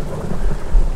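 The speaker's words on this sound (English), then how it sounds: "It's a nasty storm, too." Thunderstorm with steady rain in a Minecraft survival modpack, low rumbling thunder rolling under a constant rain hiss, swelling louder near the end, with no talk.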